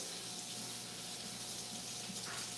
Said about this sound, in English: Give the parsley a nice rinse, pat dry.